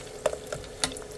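Homemade chicharon cooking in a pan, with a few crackling pops and brief sizzling bursts over a low steady background.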